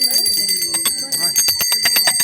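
A small temple bell rings repeatedly in a quick, uneven series of bright metallic strikes with ringing overtones, close and fairly loud, with voices talking underneath.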